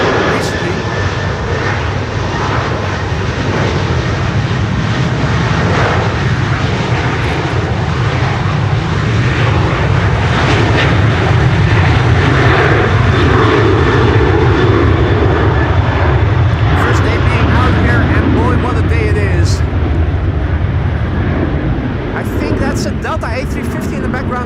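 An Airbus A350 rolls along the runway at Amsterdam Schiphol during a storm, its engines a steady, loud, broadband roar with wind noise that stays constant throughout, heard alone without talk.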